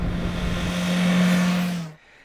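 A 2020 BMW S 1000 XR motorcycle riding on a dry road through twisty corners, giving a steady, fairly loud engine drone that holds for about two seconds and then drops away abruptly.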